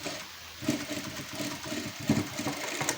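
Electric sewing machine running a cover stitch along a blouse seam, a steady mid-level mechanical whir with a soft rapid needle rhythm and small surges in speed, close by with no talk.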